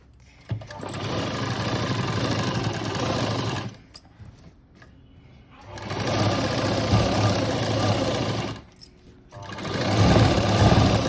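Sewing machine stitching a blouse sleeve for Ari-work embroidery, running in three long steady bursts of whirring motor and rapid needle clatter separated by short pauses, close and fairly loud.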